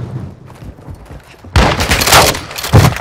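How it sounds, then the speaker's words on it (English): Gunfire in a military shooter video game: muffled shots and low thumps at first, then from about halfway a sudden loud, dense burst of rapid firing with sharp cracks, a heavy boom near the end. "You are taking effective fire."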